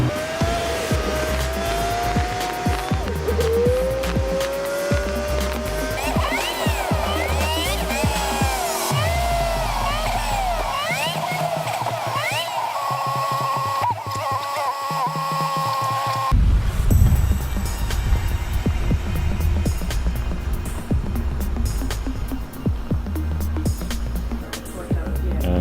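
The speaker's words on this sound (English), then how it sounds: "Crazy full drive dyno." A car runs hard on a full drive dyno in an air-cooled Porsche workshop, its engine loud and close with rising and falling revs through gear changes. A sharper, rougher roar takes over for the final stretch.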